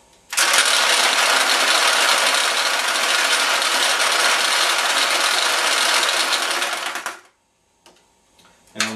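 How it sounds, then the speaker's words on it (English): Pachinko balls drain out of a Sanyo pachinko machine in a loud, dense metallic rattling rush that pours steadily for about seven seconds and then stops abruptly, leaving a few faint clicks. "the weight of those balls cause these two levers to flip down, and then the balls drained all the way out."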